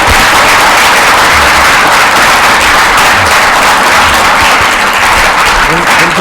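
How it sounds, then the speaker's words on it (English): A symposium audience breaks into sustained applause for the panelists, dense, loud clapping filling the hall steadily from start to finish. "if we can give a round of applause to our panelists here"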